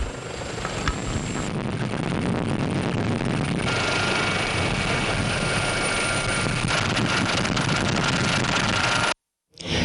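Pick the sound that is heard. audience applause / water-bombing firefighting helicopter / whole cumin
water-bombing firefighting helicopter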